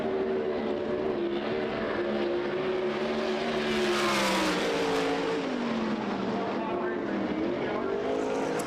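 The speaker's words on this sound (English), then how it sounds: "'18 car hits the racetrack." A USAC Silver Crown race car laps the Springfield Mile dirt oval, its engine droning steadily and loud with a rising and falling pitch as it runs, with a commentator talking over it.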